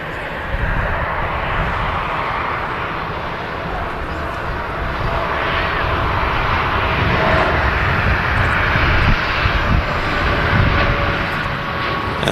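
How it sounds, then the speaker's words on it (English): A TUI Boeing Dreamliner takes off from Manchester Airport, its engines a steady, loud, broad roar that holds level throughout with no voices over it. "there goes the TUI Dreamliner leaving Manchester Airport"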